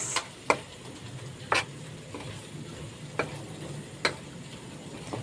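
Adobo cooks in a pan, a low steady sizzle with five sharp spoon-scrape stirring strokes spaced about a second apart, close and moderately loud with no talking.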